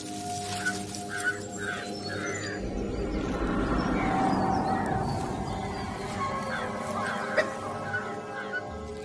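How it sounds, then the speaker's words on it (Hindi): Wild animals raise alarm calls in the Kabini jungle, where dholes (wild dogs) prowl: scattered bird-like calls and clucks rise over a dense, steady forest hum, with one sharp louder call near the end. "ये अलार्म कॉल्स मुझे लेकर नहीं दी जा रही।"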